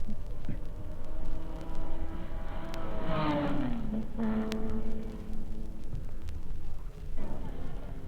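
Jaguar race car number 14 on the Sebring circuit in 1956, its engine swelling into a rising then falling pass-by whine at moderate distance, over a steady background rumble of other engines.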